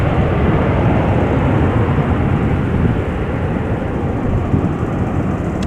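Twenty-year-old Airbus A320 airliner at Amsterdam Schiphol, a loud, dense, broadband engine roar filling the whole stretch with a slight dip midway, no talking heard.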